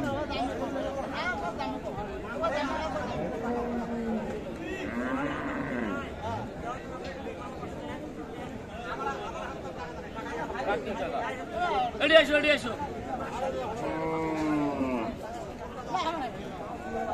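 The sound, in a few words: cows mooing while being dragged at a cattle market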